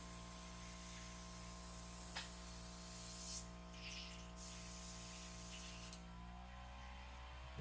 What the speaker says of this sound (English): And if I haven't told you guys how much I love this airbrush, less than 20 bucks on Amazon